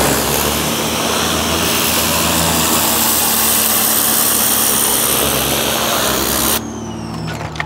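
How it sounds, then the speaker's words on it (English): A pressure washer runs loud and close during car cleaning with a citrus wash product, its dense motor drone and water hiss holding steadily before cutting off abruptly near the end. "pressure washer"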